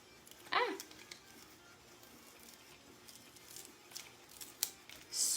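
Heavy-duty scissors snip through thick mesh for a strawberry wreath, giving a few sharp close cuts and crunchy tearing noises spread over a quiet background, with faint room noise between strokes.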